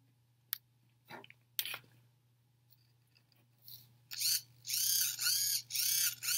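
A small hobby servo motor drives a wooden skewer in a Micro:bit-controlled fish model, giving sparse mechanical clicks and ticks followed by bursts of high, whiny gear buzzing close up, with a steady low hum underneath.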